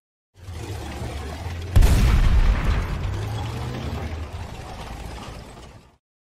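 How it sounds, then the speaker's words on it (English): A military tank rumbles low and steady for about six seconds, with a heavy mechanical clank and burst near the start and a grinding, ratcheting drive beneath, alone with no talk. "Tank."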